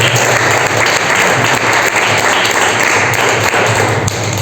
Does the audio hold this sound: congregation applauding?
yes